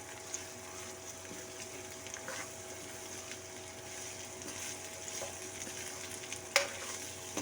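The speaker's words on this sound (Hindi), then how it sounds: "ये हमने आधा किलो भिंडी कट की हुई है, ये हमने इसके अंदर ऐड करनी है और इसको फिर थोड़ा सा सही आंच पे जो है, थोड़ा तेज़ आंच पे हम इसको चलाएंगे।" Half a kilo of chopped okra (bhindi) fries in a pan over high heat while being stirred, giving a steady sizzle with a few scraping knocks from the utensil and no voices.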